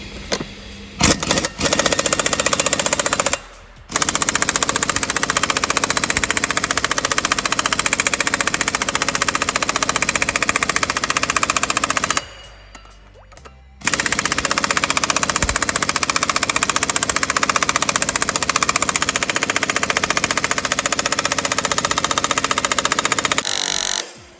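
Pneumatic 3/4 inch impact gun working on a DAF CF85 truck, loud sustained rattling hammering in long bursts with two short pauses, close up and alone.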